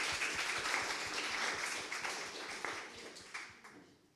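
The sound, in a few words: audience applause for a speaker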